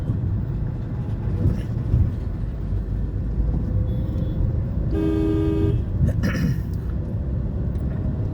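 A single car horn blares briefly amid steady road and engine noise, with a short sharp burst just after it.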